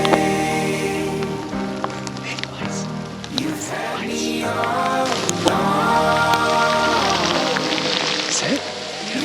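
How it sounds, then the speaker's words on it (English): Rain falls steadily on a wet Colorado public-land elk hunt, a constant hiss across the whole stretch, with voices and other sounds layered over it. "Status update. It's raining."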